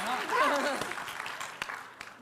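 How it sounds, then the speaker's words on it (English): A lone person at a ShmooCon cybersecurity firetalk session gives a few short, sharp hand claps right after speaking. "I clap for myself."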